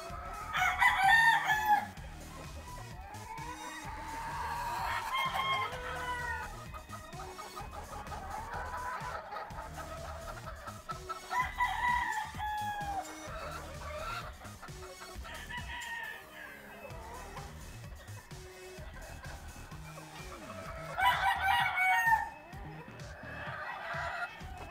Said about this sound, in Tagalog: Ayan mga available pullets. Mga straight breed yan, mga pure.